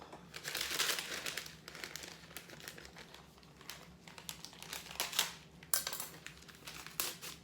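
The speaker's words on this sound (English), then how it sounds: "Need a packet of French's onion soup." Crinkling and rustling of a paper packet of French's onion soup mix being handled and torn open, close up, with scattered sharp crackles and no talking.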